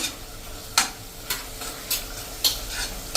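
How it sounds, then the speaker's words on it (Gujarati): Pav bhaji masala is stirred into vegetables in a pan over a medium gas flame, a low sizzle broken by about five sharp spoon scrapes and clinks at irregular intervals. "અને હવે એમાં આપણે 2 ટેબલ સ્પૂન જેવો પાવભાજીનો મસાલો નાખી દેશું, અને એને આપણે સરસ મિક્સ કરી લેશું।"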